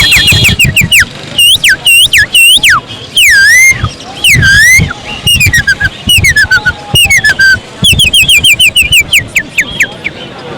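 A man whistles and warbles in imitation of a canary's song at an outdoor Sunday bird market, producing loud, rapid, sweeping chirps and trills in quick bursts close to the listener.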